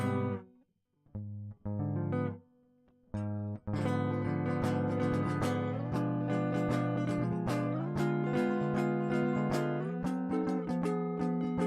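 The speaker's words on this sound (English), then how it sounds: "Let's go right into the bottom 4 string chords that sound like this right here." Guitar chords played on the bottom four strings, a few separate chords with gaps between them, then a continuous run of strummed chords, close and alone.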